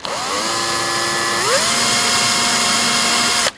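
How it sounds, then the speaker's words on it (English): Power drill boring a small hole in a boat's mast step, a loud close whine that spins up, steps higher in pitch midway, then holds steady before cutting off abruptly. "So if I just drill a small hole in one end"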